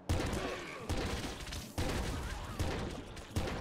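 The Big Kraken gun in the game Nuclear Throne fires repeatedly, five loud sloshing bursts at a steady rhythm, each with a sharp onset and a gushing tail.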